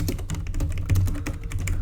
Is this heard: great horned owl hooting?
no